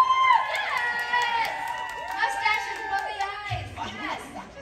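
A convention audience at a fan expo panel cheers and whoops, many overlapping raised voices forming a bright, excited swell that holds for several seconds and then eases off.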